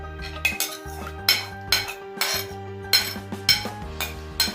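A spoon stirs a tomato mixture in a bowl for a green bean dish, making close, rhythmic metallic clinks and scrapes against the bowl, roughly two or three strokes per second.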